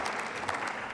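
Brief burst of applause in the German Bundestag, a dense patter of clapping hands across the chamber lasting about a second at moderate loudness.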